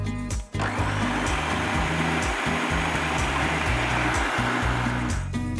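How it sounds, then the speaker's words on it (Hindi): A blender whirs through a mango and coconut milk pudding mixture, a loud, steady motor drone with a brief dip near the start before it runs on evenly and stops. "अब हम इस मिक्सचर को वापस से मैंगो के अंदर एक बार अच्छे से ब्लेंड कर लेंगे."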